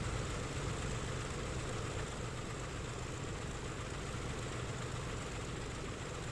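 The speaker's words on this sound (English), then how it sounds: "That will do the other stuff for us, including spinning up the engines, which you can see and which you can hear" A steady, broad roar of airliner engines spinning up in a flight simulator, constant and unchanging throughout, with no voices.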